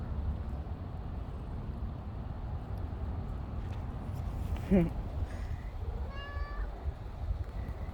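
A domestic cat outdoors in a suburban homestead yard gives a couple of short meows close by, over steady wind and background noise, with a person speaking softly nearby.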